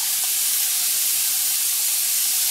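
Onion hitting very hot oil for a lentil stew, a loud, dense, continuous hiss of sizzling close up, unbroken for the whole stretch with no talking.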